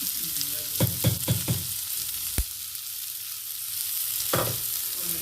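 Ground roasted spice powder sautéing in a pan of bitter gourd gravy, a steady sizzle with several sharp spoon scrapes and knocks against the pan.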